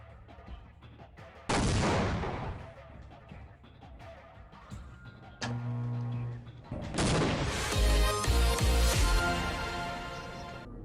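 Game combat in Half-Life: a dense run of sharp gunfire-like bursts and booms, including a loud blast near the start and a bigger crashing explosion later, with ringing debris and continuous battle noise, no talking.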